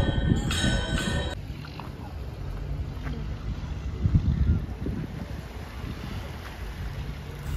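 Wind blows outside a Navratri festival temple in Uran, a continuous rough gusting rumble that buffets the microphone, with a brief bright tone near the start.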